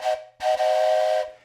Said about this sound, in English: I blow my trusty toy train whistle.